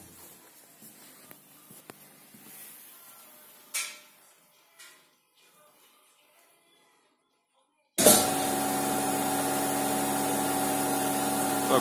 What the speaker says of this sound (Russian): Так, упаковщик включен.